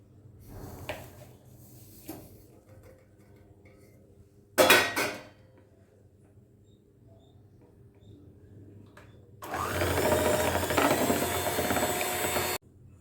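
Eggs and powdered sugar being beaten for brownie batter: scattered clinks and one loud clatter of bowl and utensil, then about three seconds of steady whirring beating before it cuts off. No voice is heard.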